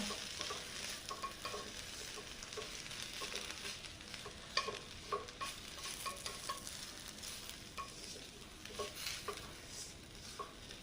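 A spoon scrapes and stirs spices through a sizzling frying pan, with steady crackling and irregular clinks of the utensil against the pan's surface.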